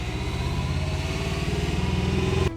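Rebuilt 2005 Subaru STI flat-four engine idling in a garage, a steady throbbing burble with even rhythmic pulses, close and loud, cutting off abruptly near the end.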